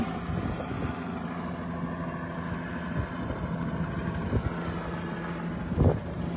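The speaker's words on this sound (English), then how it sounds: "Got a helicopter too." A police helicopter flies over a street scene, its steady rotor throb and engine drone rumbling continuously at moderate distance, with wind noise and faint background sounds but no clear talking.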